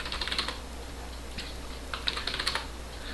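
Computer keyboard typing during an AES encryption demo: a quick run of soft key clicks, then a brief pause and a firmer keystroke like Enter being pressed, with more light taps after it, close and clear over a low hum.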